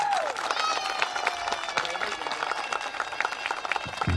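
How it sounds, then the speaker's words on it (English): Audience applause at a 2nd grade moving up ceremony, a steady wash of clapping from a crowd that carries on evenly throughout, with scattered sharper claps and a faint sustained tone early on. "how about one more big round of applause?"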